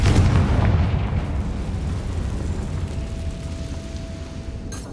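Spell explosions in Hogwarts Legacy burst with a loud, deep boom at the start, then give way to a long rumbling decay and crackling debris that fades slowly, with no talk.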